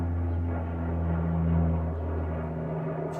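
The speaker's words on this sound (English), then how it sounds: "gonna wait for that airplane." Airplane passing overhead outdoors, a steady low droning engine hum with constant tonal bands, moderately quiet and unbroken for several seconds, no talking.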